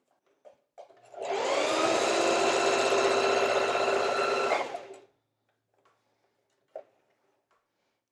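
Sewing machine stitching at stitch length 2 in one continuous run of about four seconds, a close, loud, even whirring with a quick mechanical rhythm, preceded and followed by faint clicks and quiet handling.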